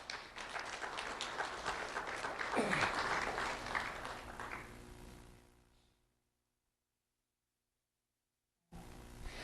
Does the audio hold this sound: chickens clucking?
no